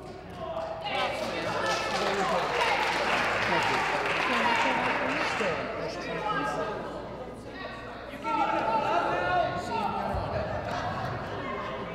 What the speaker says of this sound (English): could we just not applause when someone's speaking?